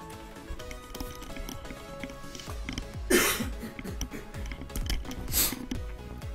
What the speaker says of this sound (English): Sorry, but this cough is just killing me.